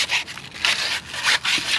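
Quick back-and-forth strokes of sandpaper rasp against a car wheel before spray painting, a rhythmic scratchy rubbing repeated several times in close succession.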